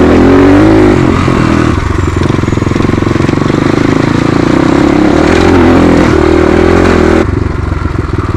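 Suzuki RM250 dirt bike ridden on an off-road trail in Nepal, its engine loud and close throughout with a steady, revving two-stroke drone that barely eases, no talking.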